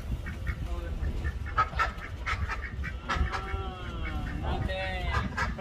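Ducks and Muscovy ducks calling at a farm in Angola, with repeated honking and quacking calls of varying pitch scattered over a steady noisy background, fairly close by.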